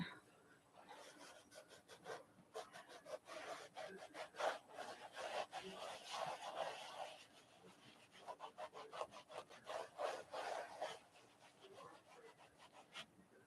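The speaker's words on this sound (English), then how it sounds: "I'm going to move it so I'm not rubbing too much in the same place." An object being rubbed clean, heard as a close, faint scrubbing in bursts of quick back-and-forth strokes with short pauses between them.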